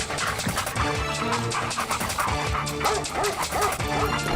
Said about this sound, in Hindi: अगले दिन जब गेंदा सेठ पानी भरकर वापस आ रहा था, तब उसके पीछे एक कुत्ता पड़ गया।